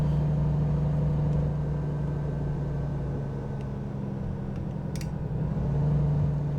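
Volvo VNL 2018 truck's diesel engine in American Truck Simulator, a steady low drone with a strong hum, running continuously and fairly loud, easing slightly mid-way before swelling again.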